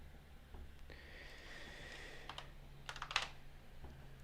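Fingers tap on a computer keyboard in a quiet room, with a short run of soft clicks that grows into a brief flurry of louder keystrokes near the end, with faint breathing and no talk.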